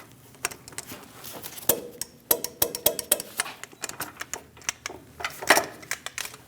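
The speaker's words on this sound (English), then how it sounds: "Torque the upper ball joint nut to 37 foot-pounds." A ratchet wrench clicks in quick irregular bursts while tightening the upper ball joint nut on a 2001-2006 Chevrolet Silverado 2500 HD steering knuckle, the ticks close and fairly quiet.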